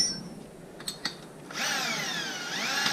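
A power drill bores with a 9/16 inch bit during a brake upgrade, revving up loud and steady after a few faint clicks and knocks, holding a continuous high whine to the end.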